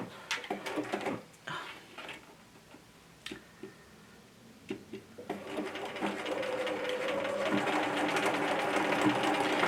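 A sewing machine stitches a dark denim tote with a straight stitch, a few clicks and handling taps giving way to a steady, close, rhythmic running whir in the second half.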